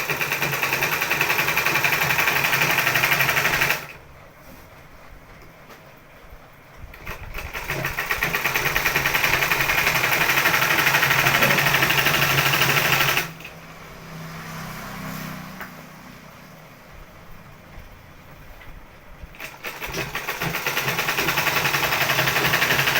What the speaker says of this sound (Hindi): और इस तरह से हम लोग सिल देंगे।